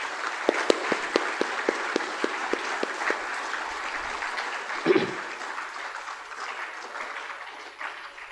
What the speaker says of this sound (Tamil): உங்களை பாராட்டி உங்களுக்கே ஒரு கைதட்டல் கொடுக்கலாம்.